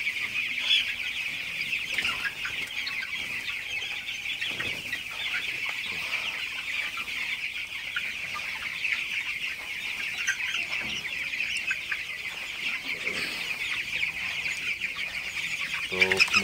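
Broiler chickens cluck and murmur in a shed with fresh litter, a soft continuous chorus of many birds with occasional louder calls and rustling.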